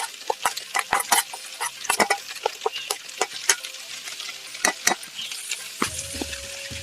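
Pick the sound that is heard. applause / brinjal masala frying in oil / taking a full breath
brinjal masala frying in oil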